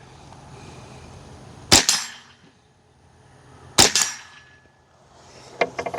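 A suppressed Ruger 10/22 with a 16-inch barrel fires standard velocity ammo: two sharp, short cracks several seconds apart, each with a brief metallic ring, followed by a fainter clattering burst at the end.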